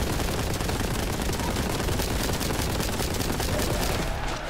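Sustained rapid gunfire from the video game Warhammer 40,000: Boltgun, a dense, loud, continuous barrage of shots filling the whole stretch with no pauses or voices.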